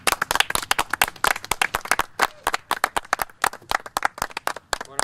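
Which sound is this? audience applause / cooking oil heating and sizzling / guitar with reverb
audience applause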